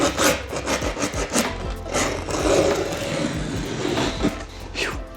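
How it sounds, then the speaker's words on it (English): Skateboard grip tape is sanded down by hand in rapid, rough back-and-forth rasping strokes, loud and close, rubbing continuously without pause and with no talking. "let's sand our grip down"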